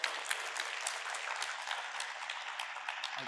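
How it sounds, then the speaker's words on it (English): Audience applause at a PMAC 2023 conference parallel session, a steady dense wash of many hands clapping throughout, fairly even in loudness and tapering slightly at the very end. "Give a warm round of applause."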